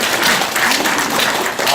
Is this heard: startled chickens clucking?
no